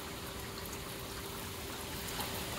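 Heavy rain pouring hard outdoors, a dense, even wash of noise that stays constant and close for a few seconds with no other sounds standing out.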